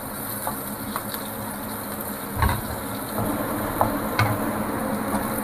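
Steady oil sizzle fills the clip with a constant hiss as okra fries, broken by a few soft clinks and stirring bumps from a pan nearby.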